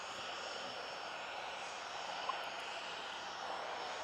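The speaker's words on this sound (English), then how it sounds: "actually quite quiet, noticeably quieter than the props. Lovely little aircraft." A light aircraft flies over an aero club airfield, its engine a steady, fairly quiet drone that holds evenly throughout, noticeably softer than nearby propeller planes, with broadband wind-like hiss and no talking.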